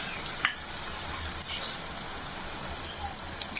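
Crabs for a crab curry cook in a pot, giving a continuous close sizzle and bubbling hiss with occasional stirring clinks.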